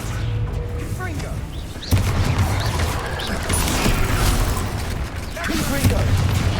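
Repeated Confringo fire spell blasts in Hogwarts Legacy, a sharp burst near the start followed by rumbling, crackling combat noise, with spoken voices mixed in.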